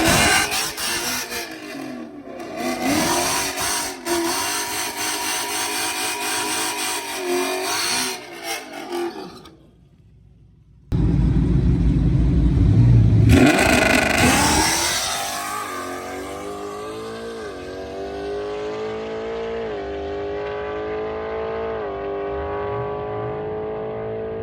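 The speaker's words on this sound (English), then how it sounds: "let's test the 2-step" A drag car engine held on two-step launch control at the strip, revving hard in loud sustained bursts. A brief cutout is followed by a roaring rise in pitch as it pulls away and fades.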